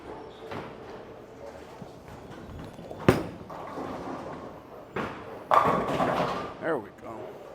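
A Roto Grip Exotic Gem bowling ball is rolled down the lane, giving a sharp thud at release and a louder crash of pins a couple of seconds later, heard amid alley clatter while a person talks.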